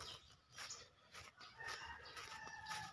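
Chickens in a small backyard coop cluck and call nearby, with a rooster crowing, the bird sounds quiet and overlapping against low background noise.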